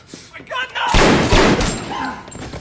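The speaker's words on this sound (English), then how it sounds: "No, it was gunfire." Gunfire in a video game: a loud, close burst of shots lasting about a second, set among surrounding sounds and voices.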